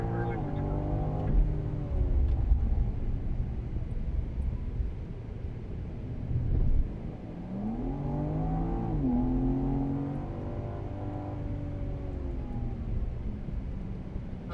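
A BMW engine revs and accelerates around the COTA race track, a close, droning in-car engine note that climbs and shifts in pitch as power is gradually fed, with a voice occasionally talking over it.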